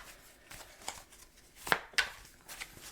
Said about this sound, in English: I'm just going to keep shuffling for sounds until I feel intuitively called to stop and pull a card